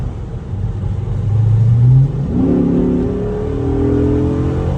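Engine of a 2007 Chrysler 300C SRT8 pulls hard under acceleration, its rumbling note climbing, dipping at a gear change, then rising again in a loud, close run. A brief exclamation is spoken over it.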